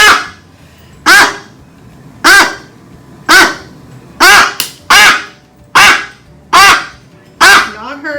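A pet bird at the vet lets out about nine loud, harsh calls, each a short squawk spaced roughly a second apart against a quiet room.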